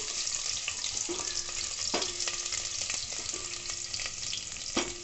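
Steady sizzling of grated ginger and garlic frying in hot oil, with occasional scraping stirs of a spatula against the pan.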